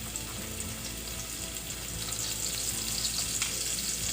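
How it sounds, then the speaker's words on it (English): Onions sautéing with a pinch of salt in a pan give a steady, moderately loud broadband sizzle that runs the whole time, with faint stirring scrapes and no talking. "Now whenever you saute onions,"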